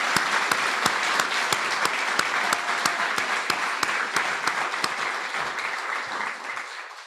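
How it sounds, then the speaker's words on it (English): Sustained applause from an audience at a scholarship awards ceremony honoring Abel Scholars, dense steady clapping with sharp individual claps standing out, holding for several seconds before tapering slightly at the end. "maybe one additional round of applause for all the Abel Scholars"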